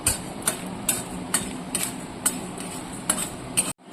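Panch phoron spices sizzle in a hot pan while a spatula scrapes and taps the metal, giving a steady rhythm of sharp clicks about twice a second over a soft frying hiss, ending abruptly.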